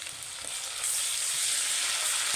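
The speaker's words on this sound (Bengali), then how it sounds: "পেঁয়াজ বাটা, রসুন বাটা, আদা বাটা ভালো করে কষিয়ে নিয়েছি।" Onion, garlic and ginger paste fries in a pan as the base for a chital fish curry, with a bright, hissing sizzle that swells louder partway through as it is stirred.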